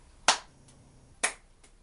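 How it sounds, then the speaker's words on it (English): Hands clap twice during an exercise routine, two sharp, crisp claps about a second apart, close and clear against a quiet room. "Another thing you can do is you can clap,"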